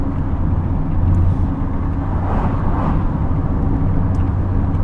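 A Fiat Seicento small city car driving along a road, its engine a steady low rumble with broadband road and tyre noise, continuous and close throughout.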